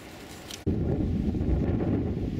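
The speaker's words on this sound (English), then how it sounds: "The wind's coming straight over there and up the hill, buffeting me." Strong wind buffets a microphone on an exposed hillside above a valley, a loud, steady low roar of gusting rumble that kicks in abruptly after a brief quieter moment and continues alone.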